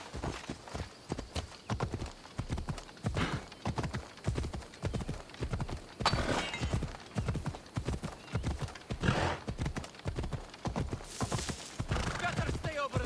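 A horse gallops in Assassin's Creed Odyssey, its hooves clip-clopping in a rapid, steady rhythm close by, with a brief neigh and a voice urging it on.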